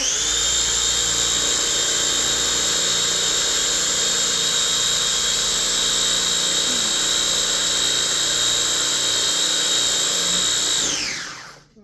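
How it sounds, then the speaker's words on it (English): A food processor blends roasted red pepper hummus in one loud, continuous high-pitched whir that holds steady for about eleven seconds, then winds down and stops. "we're going to mix this again for another 30 seconds or so"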